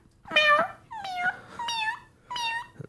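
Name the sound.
man imitating a kitten meowing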